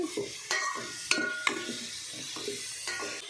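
Onion pieces frying in a pan for a goat trotter curry, a soft continuous sizzle punctuated by clinks and scrapes of a metal spoon stirring at an uneven rhythm.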